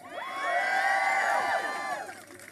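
A large rally crowd cheers and whoops on the Supreme Court steps, a loud sustained roar of many voices that swells and then fades over a couple of seconds.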